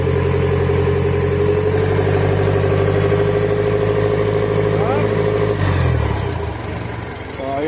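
Mitsubishi Montero engine idles steadily up close with a faint hissing whine riding over the low rumble, then drops and wavers near the end; someone talks over the noise.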